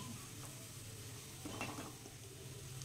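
Onion, ginger and garlic sauté in a pan over a low flame, giving a soft, steady sizzle with a few quiet stirring scrapes partway through.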